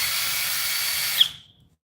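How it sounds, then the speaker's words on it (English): A power drill spins a mixer in a container, a steady high hiss and whir that cuts off abruptly just past the midpoint, leaving a brief fading tail and then quiet. "just use the drill kind of towards the edge"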